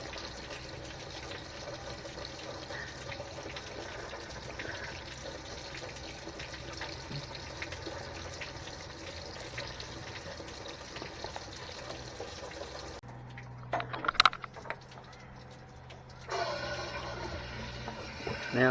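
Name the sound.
engine coolant draining during Land Rover 300TDI flush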